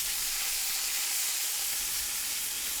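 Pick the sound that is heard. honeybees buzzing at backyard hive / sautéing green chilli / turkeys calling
sautéing green chilli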